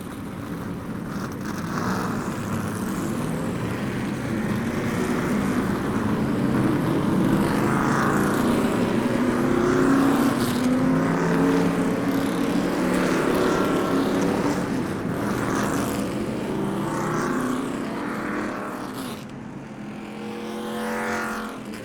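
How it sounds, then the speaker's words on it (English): Street stock race cars rolling onto a speedway track for driver introductions, a continuous close engine roar with rising and falling revs and passing swells over about twenty seconds. "get these cars on the track for drivers' introductions"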